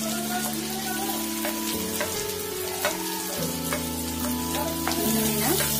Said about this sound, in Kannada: ಈರುಳ್ಳಿನ ಚೆನ್ನಾಗಿ ಫ್ರೈ ಮಾಡ್ಕೋಬೇಕು, ಗೋಲ್ಡನ್ ಬ್ರೌನ್ ಬರೋಷ್ಟು.